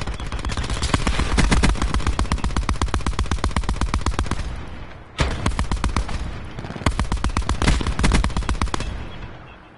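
Sustained automatic gunfire in the video game Squad, loud rapid bursts of machine-gun fire with a brief pause midway before firing resumes.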